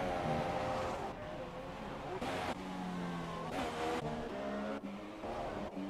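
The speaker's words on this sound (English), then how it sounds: "That's the Toro Rosso coming out." Toro Rosso Formula 1 car leaving the pits on intermediate tyres, its high engine whine rising and shifting in pitch through several gear changes, heard under overlapping commentary voices.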